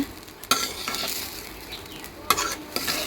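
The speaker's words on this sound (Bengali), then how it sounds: "ভুনা খিচুড়ির চাল ভেজে নিচ্ছি" Rice frying in oil in a small wok for bhuna khichuri, a steady close sizzle with scraping stir strokes and a few sharp clinks of the spoon against the pan.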